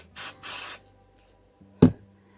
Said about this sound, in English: So I'm going to put some spray adhesive on.